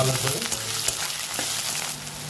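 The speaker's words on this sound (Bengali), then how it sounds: "ভালো করে নেড়ে চেড়ে ভেজে নেবো।" Chopped onion, green and dried chillies and garlic sizzle in hot oil, a steady close crackling fry with stirring scrapes, no talk.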